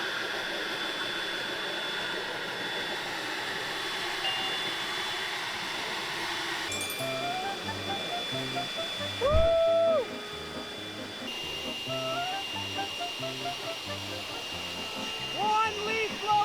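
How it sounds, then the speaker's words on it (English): A handheld leaf blower motor drives a small model tugboat across water, a steady loud whine that shifts in pitch partway through, with a brief shout of excitement over it. "Test 1, a single handheld leaf blower."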